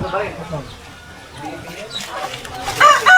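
Chicks peeping and chickens clucking near a chick pen, faint high peeps and clucks mixed under loud, close conversation throughout.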